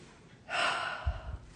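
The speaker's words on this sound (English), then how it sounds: "Let's do one more deep breath in." A deep breath in during a calm affirmation exercise: one long, close inhale of steady airy rush, followed by a soft low exhale or settling sound.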